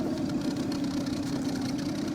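A boat's outboard motor runs steadily, a continuous close engine drone with a strong low hum that stays even throughout, with no talking.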